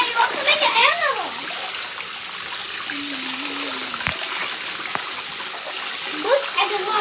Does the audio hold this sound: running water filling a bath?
yes